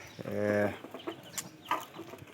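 A hen gives a drawn-out cluck nearby, followed by softer scattered clucks and peeps from chickens.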